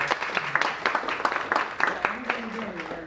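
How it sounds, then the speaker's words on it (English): An audience at a medical event in Chicago gives a round of applause, dense steady clapping lasting throughout, with voices talking faintly underneath. "round of applause for that"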